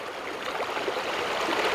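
A river flowing steadily around a person standing in the middle of it, a close, even rush of water with no voices.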